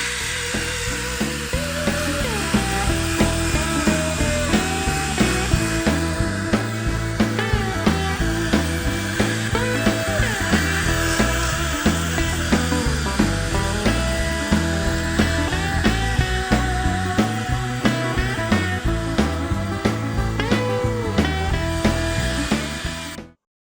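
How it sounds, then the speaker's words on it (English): A DeWalt disc sander grinds across wood in a loud, continuous whine, with rhythmic pulses as it is worked back and forth and a sudden stop at the end. "I'm going to go ahead and use my disc sander made by DeWalt."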